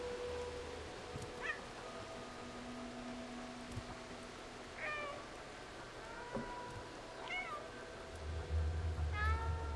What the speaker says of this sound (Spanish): Gato siendo gato.